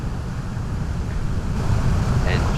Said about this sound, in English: Look at the crazy winds we've got just here.